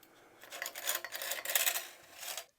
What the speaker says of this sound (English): We're just going to slide it over the magazine tube.